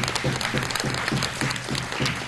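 An audience at a Tamil stage event gives a short round of applause, a steady wash of many clapping hands from start to finish with no one speaking over it.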